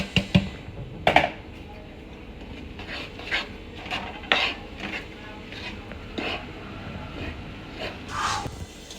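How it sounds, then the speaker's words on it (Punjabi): A spoon scrapes and clinks against a pot while panjiri with cashews, almonds and makhana is stirred, giving a few sharp knocks among soft, intermittent scraping. "ਹੁਣ ਇਹਨੂੰ ਚੰਗੀ ਤਰ੍ਹਾਂ ਆਪਾਂ ਹਿਲਾ ਲੈਣਾ ਮਿਕਸ ਕਰ ਲੈਣਾ"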